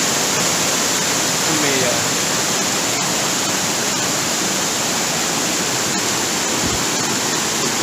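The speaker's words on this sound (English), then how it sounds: "here's the creek, and you get some glimpses of some waterfalls" A creek near Rachel Lake rushes loudly and constantly in July, a broad roaring wash of creek and falling water from waterfalls close by, with a voice faintly beneath it.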